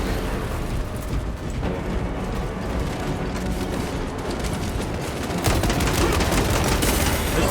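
Dense, continuous gunfire against armored enemies in the video game Space Marine 2, loud and close, a steady roar of rapid shots and impacts that grows harsher near the end.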